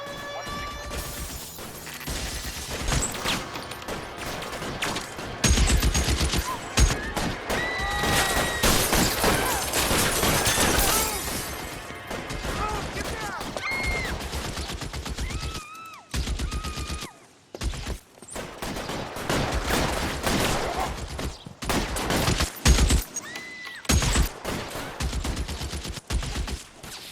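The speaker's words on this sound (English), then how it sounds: "1384 North Bronson, shots fired." Video game gunfire in L.A. Noire during a police shootout, dense rapid bursts and volleys of shots with crashes and a siren, loud and continuous with no talk over it.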